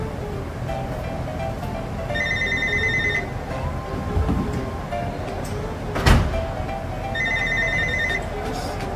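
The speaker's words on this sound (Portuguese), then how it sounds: "Telefone." Inside a car mechanic's workshop, a telephone rings in two separate bursts of bright electronic tones several seconds apart, clear over the room's background noise, with brief knocks and faint voices between rings.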